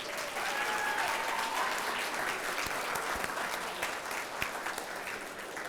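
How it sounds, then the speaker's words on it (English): A crowd claps steadily in sustained applause at a school band anniversary event, a dense wash of hand claps from a large audience, fairly loud throughout. "Let's give them one more round of applause."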